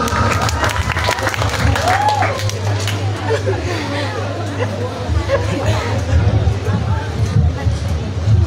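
An audience applauds at a school's 25th anniversary silver jubilee celebration, with steady clapping blended into crowd chatter and a speaking voice.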